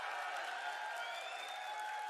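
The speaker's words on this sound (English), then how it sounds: "can we now get a huge round of applause for Matt Booty?" Steady applause from a large conference audience, a dense wash of clapping heard at a moderate distance.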